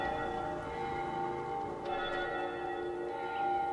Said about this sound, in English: That means the bells is gonna go off.